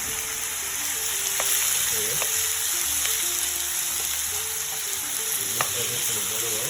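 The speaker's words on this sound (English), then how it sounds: "Next, we're going to be adding our marinated beef. So, mind you, we're using low to medium heat." Marinated beef fries in a pan over low to medium heat, giving a constant close hiss of sizzling with a few faint spatula taps and no speech.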